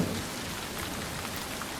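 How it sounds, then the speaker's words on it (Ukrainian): Steady rain patters down evenly, a soft continuous hiss of drops with no voices. "Так, це дощик."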